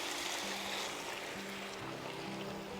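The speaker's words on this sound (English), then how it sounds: "I'm going to add a little bit more water." Water poured into a pot of ratatouille with eggplant, a steady broadband splashing and trickling running the whole time at close range, with no voices.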